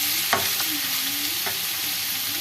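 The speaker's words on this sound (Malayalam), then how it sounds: "ഇത് നമ്മൾ വഴറ്റിട്ട് മാറ്റി വയ്ക്കണം കേട്ടോ" Vegetables sizzling and frying in a hot pan as they are sautéed, with a steady hiss throughout and a few sharp stirring scrapes, no voices.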